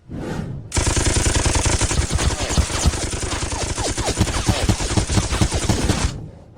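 Soldiers open fire on command, a loud, dense volley of gunshots rattling continuously for several seconds, following a short shout, then ending abruptly.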